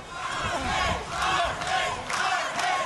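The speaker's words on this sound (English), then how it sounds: "the crowd behind me, screaming, shouting" The crowd at an Oktagon MMA fight between Yoshihiro Sato and Armen Petrosyan screams and shouts in loud, surging waves that swell and ebb throughout.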